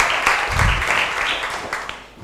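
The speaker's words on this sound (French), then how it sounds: "On applaudit plutôt Maman Solo qui nous rejoint." Applause for Maman Solo joining a kindergarten gathering in Bondoukou, a short, dense wash of clapping from the crowd with a low thump and some voices mixed in.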